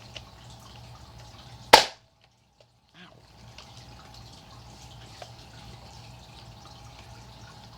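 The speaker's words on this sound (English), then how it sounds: "Close your blaster, it's ready to fire." A Nerf Rival Overwatch Magnus blaster fires once with a single sharp, loud snap, followed by near silence and faint handling noises.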